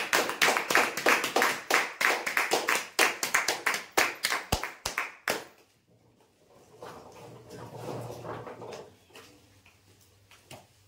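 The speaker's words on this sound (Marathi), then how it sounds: "जोरदार टाळ्या होऊ द्या यांच्यासाठी" An audience claps loudly for a prize draw winner, a dense burst of applause for about five seconds that stops abruptly, leaving a quieter room with low murmuring voices.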